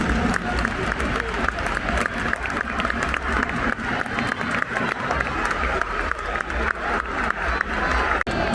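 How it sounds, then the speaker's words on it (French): Football supporters at an RC Lens Coupe de France match applauding in memory of a late man, loud sustained clapping from a large stadium crowd, steady and unbroken for over eight seconds. "Supporters, merci d'applaudir la mémoire de monsieur Jacques Pénisson."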